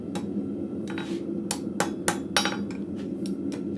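Hammer blows ring on an anvil in a blacksmith shop as scrap metal is worked, a string of sharp, fairly close strikes at an irregular pace over a steady background hum.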